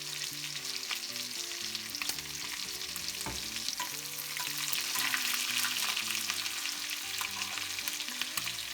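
Pork chops fry in a pan as they are basted with plenty of butter, giving a steady, loud sizzle with scraping and spooning noises on top, close and continuous with no talking.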